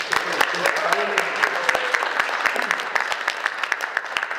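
Audience applause for a candidate at a Board of Aldermen candidate forum before a general election, steady dense clapping throughout with a few voices underneath early on.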